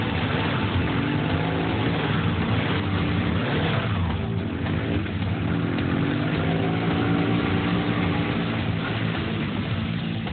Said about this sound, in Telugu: వీడు చాలా బాగా బైక్ నడుపుతున్నాడు.